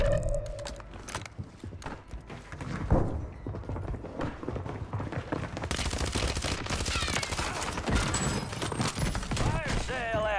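Rapid gunfire in Call of Duty Warzone on Rebirth Island, with repeated sharp bursts and thuds mixed with game effects, loud and close, while a player talks over it.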